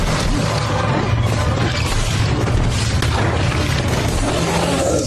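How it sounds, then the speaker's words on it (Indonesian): Film sound effect of a plant exploding in the alien jungle of Predator: Badlands, a dense sustained rumbling blast with crackling debris and deep low boom filling the whole stretch at steady loud level. "Saat tanaman meledak"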